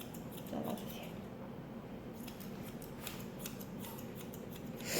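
Scissors snip the fur of a Bedlington terrier during grooming. Faint, rapid, close clipping sounds run in quick bursts over a low background hiss, with no talking.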